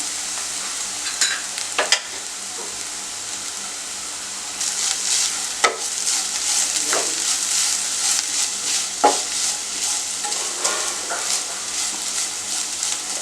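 Grated coconut sautéed in a pan with a steady low sizzle, broken by scraping spatula strokes and a few sharp clinks against the pan, close and moderately loud, no talk.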